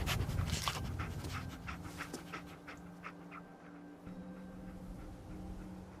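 Dogmeat, the German shepherd companion in Fallout 4, pants rapidly and sniffs close by in short breathy bursts over a low ambient hum. The panting fades somewhat toward the end, and no one speaks.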